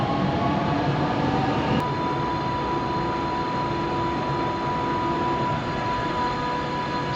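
Steady rumble and rattle of a moving, busy train carriage in Germany, with a constant hum and a brief sharp click early on, no voices.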